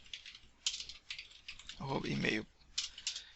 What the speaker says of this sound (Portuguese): Vamos inserir mais um dado aqui, jogar aqui, digamos, João,